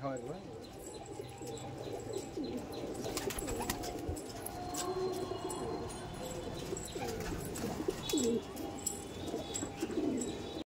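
Old Sulemani Kagzi pigeons coo in soft, repeated throaty calls near the listener, with light chirps and background bustle, and some indistinct talk underneath.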